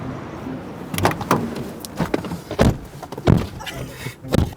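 Someone climbs into a car before a long drive: a few dull door thunks and rustling shifts of movement, close and uneven, with a short whir like a power window in between.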